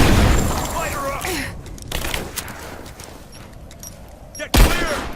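Rapid bursts of gunfire crack and boom in the Rise of the Tomb Raider video game, loud at the start and again near the end with quieter shots between, while voices shout in the fight.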